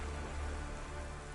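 Steady rain falling in the video game Cloudpunk, a constant close wash of drops on surfaces with no voices, even in level throughout.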